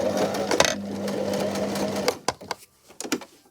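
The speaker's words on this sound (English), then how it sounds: "We're going to put this under the sewing machine. I'm going to sew along right along the edge." A sewing machine runs in a steady continuous whir for about two seconds, then stops, followed by a few soft clicks and fabric handling sounds.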